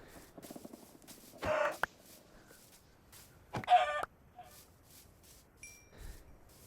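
Minecraft chickens cluck in two short, fairly loud bursts, with quieter game sounds and faint clicks in between.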